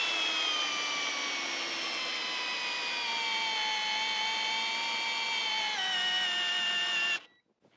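A brushless hammer drill at maximum clutch setting drives a large screw into wood with a sustained whining motor drone that dips slightly in pitch under load, then cuts off abruptly near the end.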